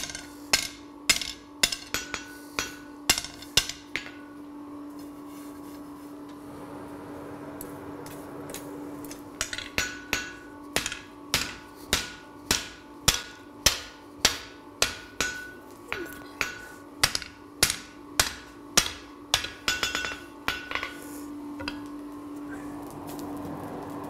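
A blacksmith strikes hot metal with a hand hammer in a forge, smoothing marks left by a power hammer: two runs of sharp, ringing blows in a steady rhythm, separated by a short pause, with no talk.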